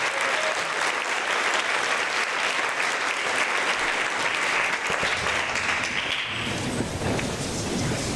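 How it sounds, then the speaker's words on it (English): Applause from an audience at a high school academic awards ceremony for a graduating class, a dense steady clatter of many hands lasting throughout before tapering slightly near the end. "One more round of applause for the class of"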